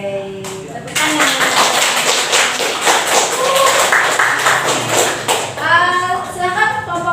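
A classroom group clapping together in a steady, loud, rhythmic burst of hand claps for several seconds, with voices and a sung or spoken chant rising over the end.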